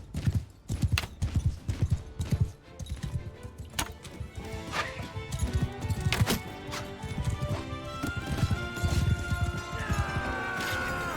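A horse charges in the video game Mount and Blade Bannerlord, its hooves pounding in rapid loud clip-clops amid clashing battle noise, with a brief whinny and no speech.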